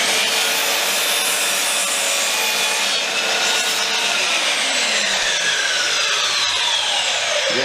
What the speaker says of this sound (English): placed correctly, and cut away again